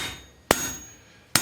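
Two sharp hammer blows strike blacksmith tong reins, each a bright ringing metallic hit with a short decay, spaced under a second apart against a quiet workshop background.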